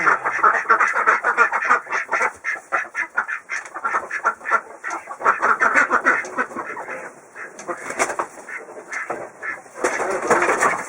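A flock of Khaki Campbell ducks quacks constantly and loudly, overlapping calls in rapid bursts with brief lulls, close and noisy.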